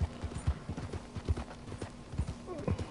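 A horse trots in Red Dead Redemption 2, its hooves clip-clopping in a steady, quick rhythm at close range. Game ambience and faint background noise run beneath the hoofbeats.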